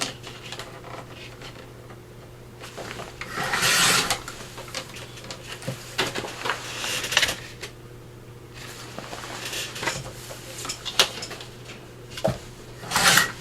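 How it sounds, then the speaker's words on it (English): Scissors or a blade trimming off excess material during prep for a stuffed flip-out signature ephemera holder craft project, heard as scattered cutting, rubbing and handling noises, some louder bursts, close up with no talking. "Just going to trim this off."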